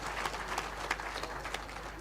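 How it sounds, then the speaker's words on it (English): Faint, distant applause rises from a business summit audience welcoming the head of state, a soft even patter over a low steady hum. "A round of applause, ladies and gentlemen,"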